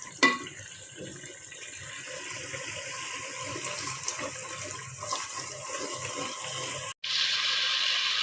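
Water being poured into a cooking pot for a boal fish curry with Sylheti bean seeds, a steady close gushing pour running for several seconds before a brief cut, then a continuing hiss-like splash; no speech.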